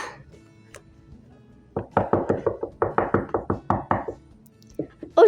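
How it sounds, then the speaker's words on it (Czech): Rapid knocking on a door comes in a quick burst of about fifteen close, hollow knocks over two and a half seconds, followed by a couple of softer taps. "už slyším klepání"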